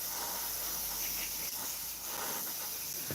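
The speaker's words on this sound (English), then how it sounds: "spraying inside the landing gear area now" An airbrush sprays black paint inside a model's landing gear area, hissing steadily and continuously, a close, even spray of air and paint with no pauses.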